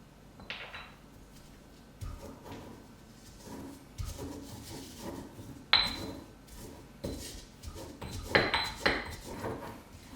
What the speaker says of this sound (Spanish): Trituramos el ajo y le vamos a poner la sal adentro para que no salte el ajo.